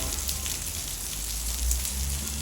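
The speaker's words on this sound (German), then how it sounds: "beginnt es auch gleich zu regnen" Steady rain falling outside a hotel in Olbia, Sardinia, a continuous broadband hiss with a low rumbling undertone throughout, fairly close and with no voices.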